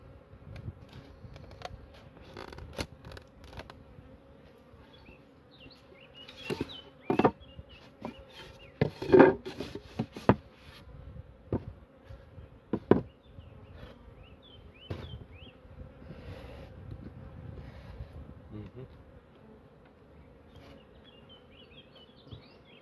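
Bees buzz near and far around a hive, their drone rising and falling, with scattered knocks and thumps of handling equipment in between and no talking.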